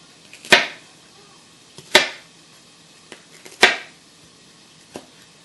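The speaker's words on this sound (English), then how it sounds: "You're just going to want to get it sliced into tiny little cubes" A knife cuts meat into small cubes on a cutting board for carne con papas, giving three sharp, separate chopping strikes a second or so apart, close and fairly loud, with a faint extra tap near the end.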